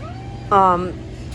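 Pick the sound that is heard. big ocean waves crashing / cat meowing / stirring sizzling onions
cat meowing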